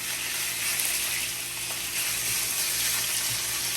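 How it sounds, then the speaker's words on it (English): Beef steaks searing in hot oil in a pan, a steady close sizzle and crackle with faint mechanical clicks. "we're gonna pan sear these steaks for about 3 minutes"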